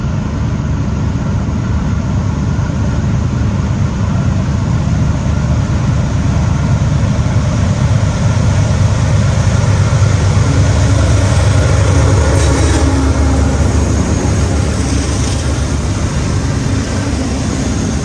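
A six-engine CSX freight train passes under a bridge, a loud, continuous low diesel rumble and rolling roar that holds steady throughout with faint metallic squeals.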